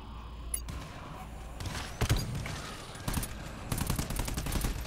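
Gunfire in the co-op horror shooter GTFO, a run of sharp shots in short rapid bursts, fairly close, over a low dark ambient drone, with little talk.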